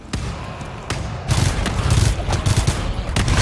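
Gunfire in the co-op shooter GTFO: dense bursts of shots crackle across the whole clip, growing louder after the first second into a sustained barrage.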